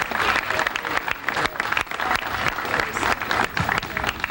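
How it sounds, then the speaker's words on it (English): Applause for the parents at a 1990 Eastchester High School girls softball team gathering: a dense, steady round of clapping from a crowd, loud and continuous throughout with no pauses. "I think they certainly deserve a really big round of applause."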